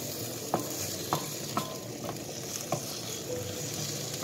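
Spaghetti with seafood being stirred in a pan over steady frying sizzle, with about six soft spoon scrapes at regular intervals, close and fairly quiet.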